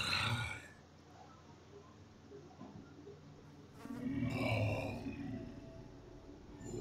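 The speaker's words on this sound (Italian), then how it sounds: "Mi stanno passando le mosche davanti!" Flies buzz in the video game Half-Life 2 Episode Two, a droning insect hum that swells and fades as they pass close by, with faint game sounds underneath.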